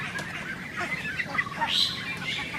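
Ducks just under two months old on a duck farm, giving scattered quacks and calls in a busy mid-distance flock chorus, steady throughout with no voices.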